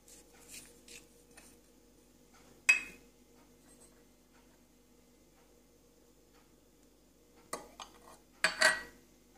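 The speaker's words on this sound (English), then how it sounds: "After roasting the nuts, mix all the ingredients together." Clinks and scrapes of a utensil against a bowl while mixing roasted nuts, honey and jaggery for granola bars come in a few short bursts, with quiet pauses between them and no talking.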